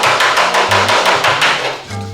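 Several sharp metallic hammer blows on a dolly ring out in quick succession, knocking out a low spot in a 1969 Chevelle SS body panel, close and loud, each with a brief ringing tone.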